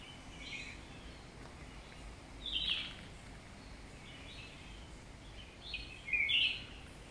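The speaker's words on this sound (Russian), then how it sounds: "Гляньте, какая птичка." A bird calls from the tree canopy on Mauritius, giving two short, fairly faint bursts of chirping a few seconds apart over a quiet outdoor background.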